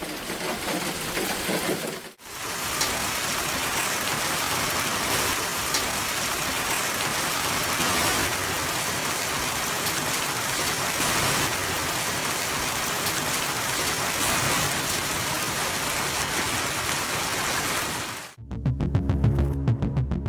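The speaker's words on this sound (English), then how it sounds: "A sudden, violent thunderstorm swept through eastern Slovakia." Heavy, steady downpour from a violent thunderstorm in eastern Slovakia, loud and continuous broadband hiss of rain filling nearly the whole stretch, broken by a brief gap near the start and ending in a short burst of low rumbling handling noise.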